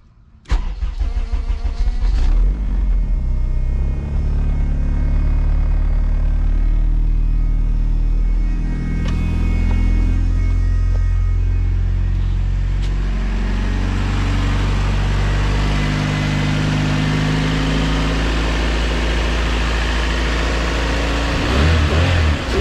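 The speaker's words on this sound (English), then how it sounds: "Let's fire the car over." A car with a modified D17 coil-pack conversion cranks, fires up and revs repeatedly, the engine loud and close throughout with no talking.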